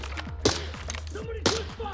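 Two sharp gunshot bursts from the video game Arena Breakout: Infinite, about a second apart, over a steady low hum with people talking faintly in the background.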